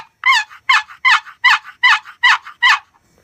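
A hand-operated turkey call demonstrated indoors gives eight loud, evenly spaced yelps in a steady rhythm, each sharp and raspy, with nothing else behind them.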